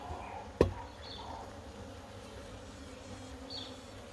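Honey bees buzz around a newly released queen on a hive frame during beekeeping in South Africa, a faint steady hum with a sharp knock early on and occasional brief higher tones.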